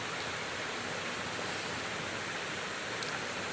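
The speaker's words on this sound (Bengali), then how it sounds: "দুধটা দেখেন কী অবস্থায় বলক উঠেছে।" Milk boiling in a pot while it is stirred continuously, a steady, even hiss of bubbling and frothing held at a constant level throughout, with no voices over it.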